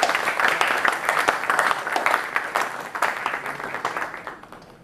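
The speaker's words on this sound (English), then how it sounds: "Having a studded panel like this surely calls for a bigger round of applause," An audience at a film festival panel discussion breaks into sustained applause, loud and dense crowd clapping that gradually thins and fades toward the end.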